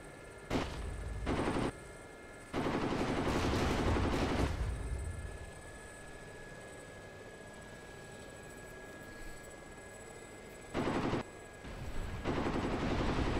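Enemy gunfire aimed at a helicopter in DCS World comes in several short bursts, separated by stretches of steady rotor and engine hum.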